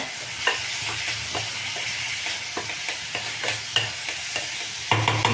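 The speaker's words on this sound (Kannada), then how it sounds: "ಇದು ಎಣ್ಣೆನಲ್ಲೇ ಸ್ವಲ್ಪ ಬಿಸಿ ಆಗಲಿ ಕಾಯಿ ಆವಾಗ ರುಚಿ ಚೆಂದ ಇರುತ್ತೆ" Cluster beans sizzle steadily in hot oil in a pan, and repeated stirring adds sharp scrapes and clicks in an uneven rhythm, heard up close.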